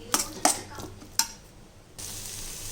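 A spatula stirs and sautés chilli powder masala in a pan for pudina milagu chicken gravy, giving three sharp scraping clinks followed by a steady soft sizzle, close and moderately quiet.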